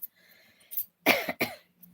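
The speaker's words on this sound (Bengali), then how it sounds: "লাইফে আসি কাশিটা আমার চলে আসে" A person coughs twice in quick succession, close and fairly loud, after a soft throaty sound, in an otherwise quiet room.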